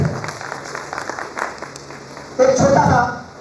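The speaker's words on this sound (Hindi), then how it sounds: "जोरदार ताली बजाइएगा" A crowd at a celebration event in Hyderabad breaks into brief applause near the end, a burst of clapping rising after a stretch of talk and lasting under a second before fading.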